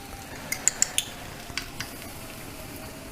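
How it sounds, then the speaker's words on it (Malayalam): Chili powder being stirred into a drumstick and tomato curry, with a few light spoon clicks against the pan early on over a low background hiss, then soft scraping. "ഇതൊന്ന് നന്നായിട്ട് ഇളക്കി കൊടുക്കുക"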